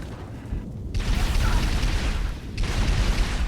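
Rapid weapon fire during a Halo Reach campaign mission on Nightfall, heard as a dense, continuous roar of shots with booming bursts, loud and close, briefly dipping before resuming.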